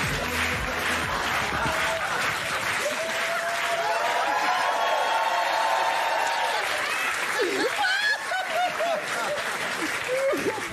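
A French TV studio audience applauds and cheers for a guest, dense clapping with voices and whoops mixed in and people talking over it.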